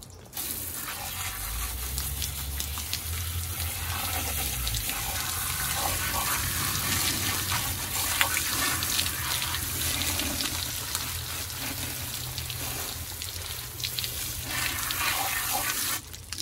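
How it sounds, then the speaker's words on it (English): Tap water runs steadily into a sink, rinsing out a cleaned wild hog carcass. The gushing is constant, loud and close for the whole stretch, with no talk over it. "All right, now let's wash it out, okay?"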